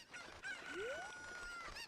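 A chicken in The Legend of Zelda: Ocarina of Time gives a faint squawking cluck with a rising cry, heard at low level against quiet game background sounds.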